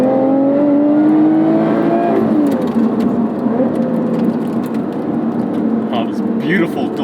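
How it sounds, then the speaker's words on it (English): A 2020 Lotus Evora GT engine revs on downshifts, with rising and falling engine tones blipping through gear changes under a loud, continuous road and cabin roar while someone talks over it. "Oh, this beautiful, delicious downshifts, baby!"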